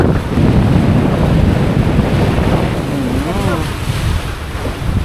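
Strong wind buffets the microphone at a seaside dining spot over the roar of sea surf, with a voice briefly heard under the constant rushing noise.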